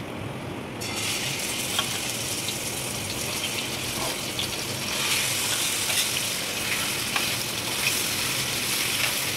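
Ingredients tipped by spoon into hot oil in a kadai while cooking chicken liver sizzle loudly and steadily, a dense unbroken frying hiss that swells slightly partway through, with no talking.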